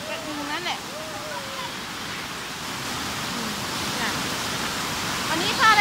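Steady rushing water from the Alongkorn waterfall in Sangkha, Surin, fills the background as a broad, even hiss, with children's and adults' voices chattering over it.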